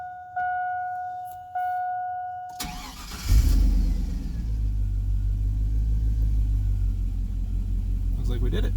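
A 1999–2003 Chevy/GMC truck cranks and fires up on a new Walbro fuel pump, then settles into a steady, loud idle rumble that runs to the end, after two short electrical whines as the key turns and the pump primes.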